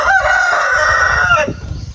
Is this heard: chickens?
yes